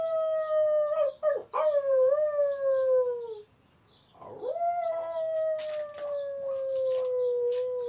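A long, drawn-out wolf-like howl rises and slowly falls, breaks off briefly, then returns as a second sustained howl in a quiet outdoor setting.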